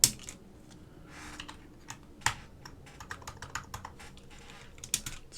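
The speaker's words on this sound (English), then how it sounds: "Let's start adding our keycaps." Keycaps are pressed onto a mechanical keyboard kit, giving a string of close, crisp plastic clicks and snaps at an irregular pace, some louder than others, with no voices.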